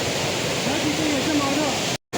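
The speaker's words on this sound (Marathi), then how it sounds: "आता हा काळू वॉटरफॉल तर नाही, तर दुसरा वॉटरफॉल दिसला आपल्याला" Steady broadband roar of a waterfall heard from nearby, constant rushing water with a person talking faintly over it before a brief cut to silence.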